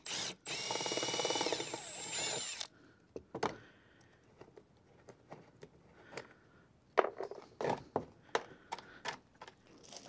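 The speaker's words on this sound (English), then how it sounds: "We're going to go ahead and remove a few 18 millimeter fasteners that hold down this truck" Power tool, probably an impact or drill, removing 18 mm bed fasteners on a 2001 Chevy Silverado pickup, heard as one loud sustained whir of a few seconds followed by scattered clanks and handling noises.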